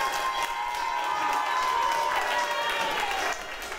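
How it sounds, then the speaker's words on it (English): A live studio audience applauds and cheers for the fashion fight show winner, with thick continuous clapping and a few raised voices mixed in, dipping a little near the end. "Give her a double round of applause"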